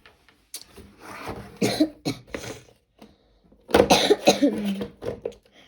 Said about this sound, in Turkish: öksürdüğüm için özür dilerim